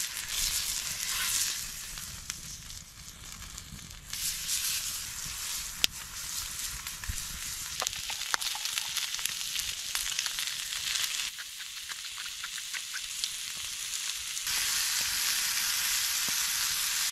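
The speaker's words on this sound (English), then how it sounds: "all you gotta do is warm them up on the fire" Pre-cooked food sizzles and fries over a campfire at a snowy winter camp, a steady crackling hiss that swells louder at times, with occasional stirring clicks and no talk.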